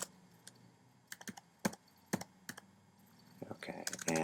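A command being typed on a computer keyboard, heard as scattered single key clicks that turn into a faster run near the end, close up and quiet against faint background noise.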